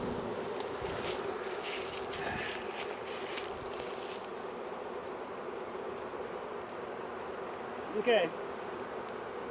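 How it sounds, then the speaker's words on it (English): A captured honeybee swarm hums as a steady, dense buzz that fills the background, with a few brief voices and a short louder rustle near the end. "there's a lot of bees in the front"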